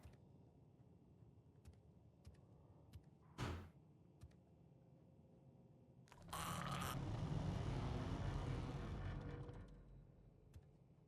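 A door in the horror game Ratshaker opens with a short sharp knock, then a loud sustained grinding, sliding rush that lasts about three seconds before fading; a quiet room hum sits underneath.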